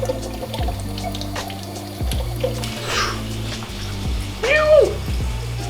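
Water poured into a garage computer's liquid cooling loop during a flush, heard as a steady liquid trickle under an electrical hum with small knocks and a brief squeak near the end.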